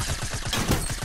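SMG gunfire in the video game Fortnite rattles out in a rapid, continuous burst, loud and dense throughout.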